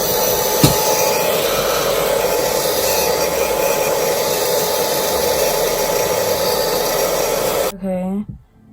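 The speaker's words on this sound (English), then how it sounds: "I should plug my blow dryer so we could really get it on and popping." Blow dryer running over glue on a wig, a loud steady whooshing hum close by for most of the clip, switching off near the end, with a voice heard under it.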